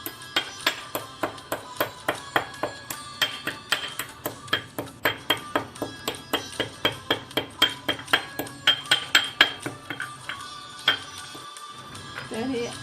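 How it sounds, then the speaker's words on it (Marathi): Repeated pounding of cinnamon sticks into powder for masala chai, likely in a mortar and pestle; steady rhythmic metallic strikes, a few dozen close together, fairly loud, ending with a brief rustle. "तर हे दालचिनी आता आपण बारीक करून घेऊया"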